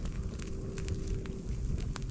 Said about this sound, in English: First campfire